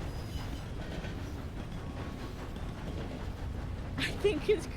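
A video-game train runs on rails with a steady rumble and light clatter. Near the end a voice briefly breaks in over the noise.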